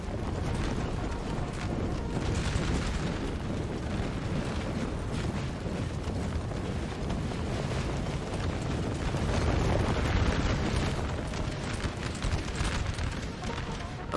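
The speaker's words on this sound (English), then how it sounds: "Here we go, the artillery is firing." Artillery fire in the Napoleonic battle game Napoleon Total War forms a dense, continuous rumble of booms and crackling volleys that stays loud throughout.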